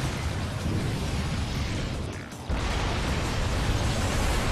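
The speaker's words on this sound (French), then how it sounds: "Ah quand même, petite explosion." A roaring explosion in the action video game Vanquish fills the scene with a dense, rumbling blast, dipping briefly before a second loud burst carries on to the end.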